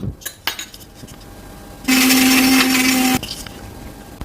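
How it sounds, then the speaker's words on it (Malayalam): A mixer grinder blending date juice with ice roars loudly for about a second and a half, with a steady motor whine, between clicks and handling knocks. "3 ഐസ് ക്യൂബും കൂടി ഇട്ട് കൊടുത്ത ശേഷം നമുക്ക് മിക്സിയിൽ അടിച്ചെടുക്കാം."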